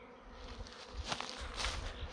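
A steady, dense buzzing of a honeybee swarm hums close by, rising and falling slightly in a continuous drone, no voices.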